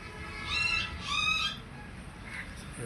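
A voice imitates a cat, giving two drawn-out, wavering meows one after the other, then a faint third sound trails off.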